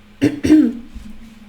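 Two quick, close coughs in succession, the second slightly longer and raspier, followed by quiet.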